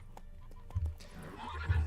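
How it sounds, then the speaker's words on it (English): Horse sounds from Witcher 3 gameplay: a few quick hoof clip-clops and a short whinny-like snort, fairly quiet over a low game background rumble, with no talking. "Horsey, can you not get stuck?"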